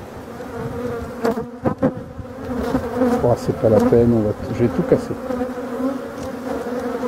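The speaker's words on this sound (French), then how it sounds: "celle-là, c'est la descendante de mes abeilles sauvages là." Honey bees buzz loudly around an opened beehive, a dense, agitated drone with individual insects zipping close to the microphone, while someone speaks briefly over the swarm.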